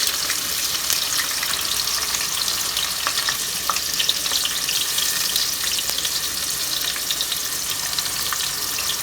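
Onion frying in a pot for a chicken biryani gravy, a steady dense sizzle that runs close and loud through the whole stretch, with a few faint stirring clicks and no voices.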